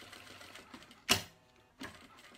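Sewing machine stitching a zipper onto a bag with a wide stitch, heard as quiet mechanical whirring with one sharp clack and a softer second thump, close up and without talk.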